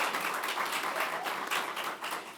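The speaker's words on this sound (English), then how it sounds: "they're not just clapping because you all paid for lunch too" Audience clapping at a lunch-and-learn event, a steady wash of applause from a modest crowd heard from a short distance, without voices.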